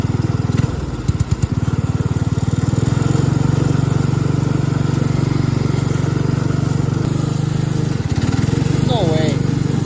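A John Deere 56 riding lawn mower engine runs close and loud with a steady low rumble throughout, with brief clattering knocks near the start and a voice heard over it.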